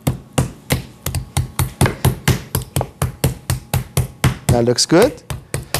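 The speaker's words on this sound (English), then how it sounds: "when you pound your chicken, you just hammer it down and pull" A mallet pounds chicken breast flat for a harissa chicken roulade, landing about twenty steady, loud, close thuds in a quick even rhythm; a voice speaks briefly near the end.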